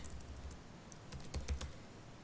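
Code is typed on a computer keyboard in a quick, irregular patter of close key clicks, with a brief cluster of louder strokes near the end.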